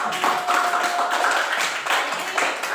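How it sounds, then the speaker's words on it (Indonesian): Students in a classroom clap together in a short, uneven burst, with a faint voice underneath and a steady tone running through the first half. "Oke, tepuk tangan dulu"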